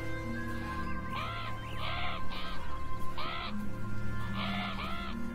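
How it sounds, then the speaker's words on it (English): Crows caw repeatedly in Beyond Eyes, a series of harsh, nasal calls in short bursts of two or three, fairly close and loud over a steady ambient hum and faint melodic tones. "These crows are everywhere."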